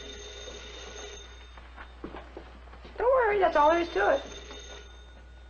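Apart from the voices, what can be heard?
telephone ringing in a radio drama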